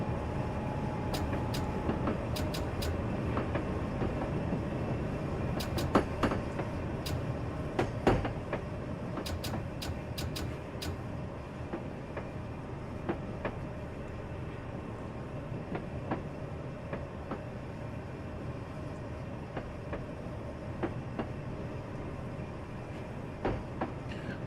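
Commuter train diverging off the Northeast Corridor onto the single-track New Canaan branch, a steady rolling rumble from inside the car with scattered rail clicks and squeaks throughout.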